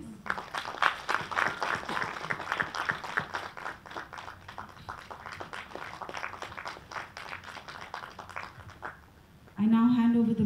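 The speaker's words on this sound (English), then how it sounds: "A round of applause, please." An audience at a costume design masterclass applauds in a dense, steady round of clapping that lasts about nine seconds before a voice speaks over it.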